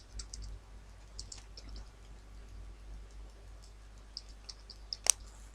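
An ID card number is typed on a computer keyboard as a scattering of faint, quick key clicks in an irregular rhythm, ending with one sharper tap, over low background hum and no speech.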